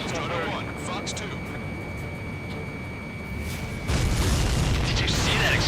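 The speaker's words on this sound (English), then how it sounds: "Did you see that explosion?" A supply ship blowing up in Ace Combat 7, a deep, rumbling boom that swells suddenly near the end over steady jet noise, with radio voices talking across the clip.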